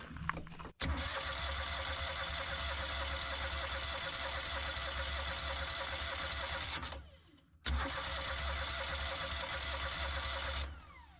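A Husqvarna iZ5223 zero-turn mower engine cranks on its starter with choke on, a loud steady churning that runs about six seconds, breaks briefly, then resumes for three more seconds without catching.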